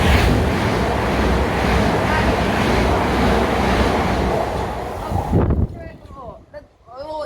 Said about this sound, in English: Train now approaching platform 2